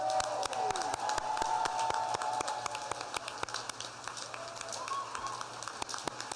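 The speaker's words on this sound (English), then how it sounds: "Let's have one more round of applause for all of our graduates." An audience at a school commencement gives a round of applause for the graduates, with moderately loud, steady clapping throughout and a few voices calling out over it.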